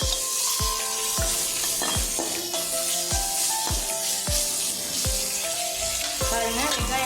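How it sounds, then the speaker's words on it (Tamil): Onions sautéing in a pan for curd rice, with a steady loud sizzle and regular scraping strokes of a spoon stirring through the pan, no voice over it. "பாருங்க வெங்காயம் நல்லா வதங்கிட்டு இருக்கு"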